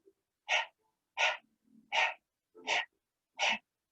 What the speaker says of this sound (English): Okay, so this is me panting.